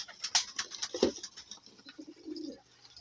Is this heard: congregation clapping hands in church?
no